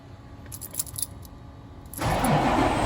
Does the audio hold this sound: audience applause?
no